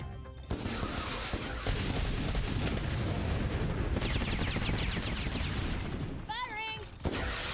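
Dense bursts of explosions and gunfire from the Atlas Reactor video game run almost nonstop, loud and layered, with a brief voice-like warble near the end.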